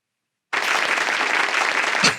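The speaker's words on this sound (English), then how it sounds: "cameraman, give a round of applause." After a brief silence, a sudden burst of clapping and cheering from a small group starts and holds steady, loud and close, then tails off with a thump at the end.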